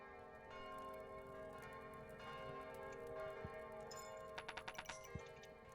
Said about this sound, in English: I'm waiting for the bell to ring, so I know for sure.